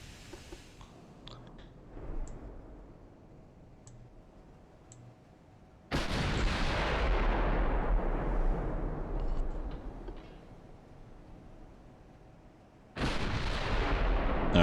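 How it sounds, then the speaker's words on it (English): Heavy naval guns boom in a dreadnought-era warship battle game, with two loud sustained broadband blasts rolling out and decaying, preceded by quieter clicks and distant thuds. "We're firing on somebody different now."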